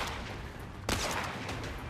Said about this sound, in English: He's shooting through the wall, y'all.